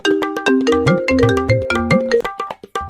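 A bright, melodic phone ringtone plays nonstop, a looping electronic tune with a bouncy rhythm, loud and close.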